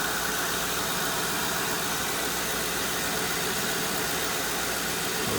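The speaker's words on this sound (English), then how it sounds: "Very quiet engine." A Lincoln Town Car with its battery warning light on idles steadily, its engine giving a constant, even hum and hiss with no talk.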